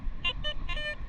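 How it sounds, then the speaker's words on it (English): Electronic beeps repeat in a steady run of tones, a high warbling pattern over low rumbling background noise, fairly faint. "It don't stop beeping."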